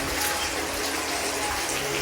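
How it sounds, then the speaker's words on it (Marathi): Steady gurgling rush of a hidden spring flowing at a temple, close and continuous with no pauses. "गुप्त असा पाण्याचा झरा आहे"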